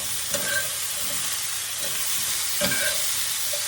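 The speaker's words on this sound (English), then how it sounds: "I'm gonna stir my vegetables around a little bit" Vegetables sizzle in a hot pan for a French onion pork chop dish. A constant frying hiss carries on throughout, broken by two or three brief scraping stirs, all close by with no talking.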